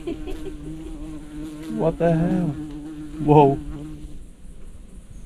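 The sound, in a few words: very large bee buzzing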